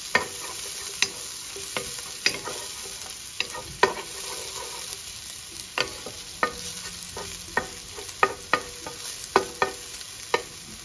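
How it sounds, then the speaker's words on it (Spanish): Chopped onion and garlic sauté in olive oil with a continuous close crackle, broken by regular sharp knocks of a utensil stirring against the pan. "Vamos a sofreírlo."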